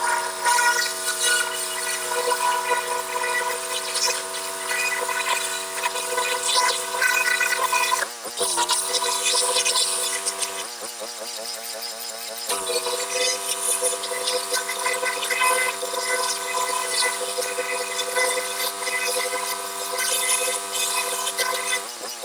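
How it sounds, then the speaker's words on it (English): A pressure washer sprays a car trailer outdoors, a loud, close, continuous hissing roar with a steady motor drone underneath, briefly interrupted twice as the spray shifts. "I'm going to power wash this trailer before I do any more cleanup on it."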